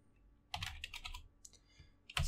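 Typing on a computer keyboard: quiet bursts of close, rapid key clicks in irregular clusters, with brief pauses between them.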